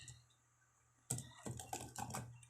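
Typing on a computer keyboard while composing a mail merge letter: after a quiet stretch, close, brisk bursts of keystrokes start and continue in uneven clusters to the end.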